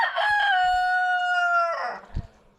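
A rooster on an Australian farm crows once, a long clear harmonic call close by and loud, trailing off into a cluck; no one talks.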